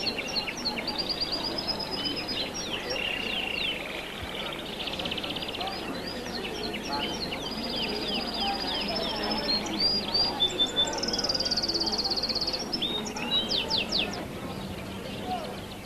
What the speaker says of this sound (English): wherever you go, you can hear bird songs